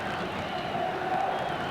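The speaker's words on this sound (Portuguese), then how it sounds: "A torcida começa a gritar, é campeão" Stadium crowd at a 1988 Carioca championship football match between Vasco and Flamengo, thousands of fans chanting together in a dense, steady roar that fills the background under live match commentary.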